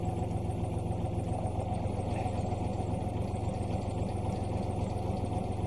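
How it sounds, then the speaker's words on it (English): Excavator engine ticking over at idle, a steady low rumble that holds at a constant level throughout, close and unbroken with no voices over it. "We've just got the engine just ticking over."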